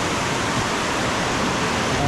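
Clean mountain stream water rushing over rocks along the trail to Love Waterfall in Hoang Lien National Park, Sapa, Vietnam: a steady, loud, broadband wash filling the whole short stretch without pause.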